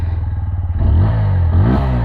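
A 2026 TVS Apache 160 4V motorcycle engine cranks and catches, settling into a low, throbbing idle with a couple of quick revs, close by.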